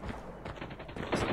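Clunky gun firing in a video game, a short uneven string of several shots with some heavier thumps, fairly quiet, roughly five or six reports in just over a second.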